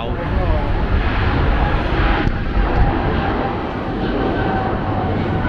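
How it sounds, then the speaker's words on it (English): An Airbus A380 landing at Heathrow, heard from outside a nearby hotel, makes a broad, steady roar that fills the background, with people talking over it. "Is the plane taking off?"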